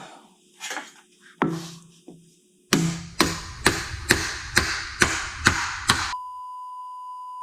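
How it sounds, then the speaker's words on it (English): Sharp, evenly spaced leather hammer blows over a beater bag, shaping a Nissan 300ZX body panel, about a dozen strikes speeding into a steady rhythm, followed by a faint sustained tone. "take our beater bag and our leather hammer and get this guy profiled out"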